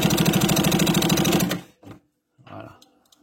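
A vintage Singer sewing machine stitches leather with a rapid, even mechanical clatter for about a second and a half, then stops, leaving a few faint clicks and handling sounds.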